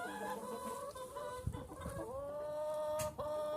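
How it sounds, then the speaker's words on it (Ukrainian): Bantam hens clucking outdoors, a run of close, steady tonal clucks and murmurs lasting a few seconds, fairly quiet and with no talk. "Біла курочка, бінтамка, як завжди, ходить"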